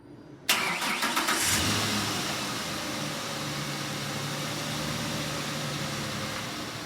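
A 2009 Ford Ranger engine cranks briefly and fires up, then settles into a steady, close idle hum that runs on for several seconds with no talking.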